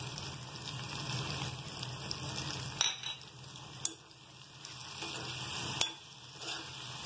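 Wheat flour halwa with sugar and ghee being stirred in a pan, giving a steady close sizzle and scraping texture with a few sharper clinks of the spoon against the pan.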